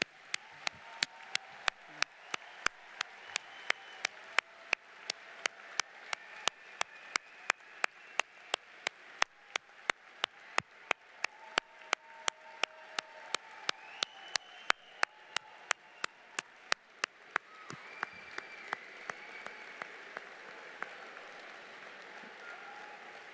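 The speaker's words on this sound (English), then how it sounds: "please applaud them as a token of your appreciation" Audience applause at a PhD and master's commencement ceremony in May 2025, a long sustained wash of clapping from a large crowd, steady throughout with scattered sharper claps standing out near the front.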